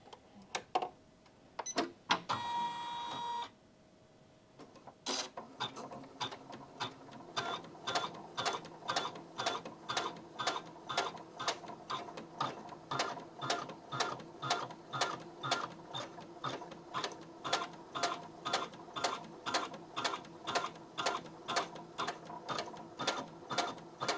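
Janome embroidery machine, a 550E, 500E or 400E model, stitching out a design. After a few clunks and a short whir it settles into a steady, close, rhythmic mechanical clatter of repeated needle strokes.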